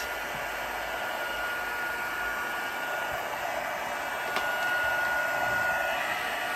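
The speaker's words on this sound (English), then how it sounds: "I'm going to let my gun heat up for just a second" A craft embossing heat gun runs steadily, a loud, close, continuous blowing whir that holds an even level throughout and swells slightly near the end, with no talking.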